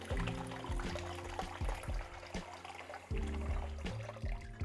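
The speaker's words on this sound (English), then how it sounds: "we're gonna very carefully strain out our water." Salted pickling water being strained through a kitchen strainer, a steady close pour and splashing trickle with repeated soft clinks and knocks throughout.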